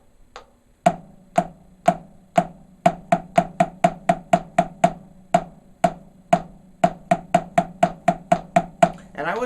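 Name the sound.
snare drum quarter notes and eighth notes at tempo 80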